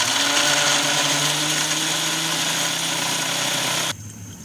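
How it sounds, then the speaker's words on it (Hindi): An electric spice grinder whirs steadily as it grinds whole spices for mutton korma, a loud, continuous motor drone that runs for about four seconds before cutting off abruptly, with no talking. "अब मैं इसको ग्राइंड कर लूँगी।"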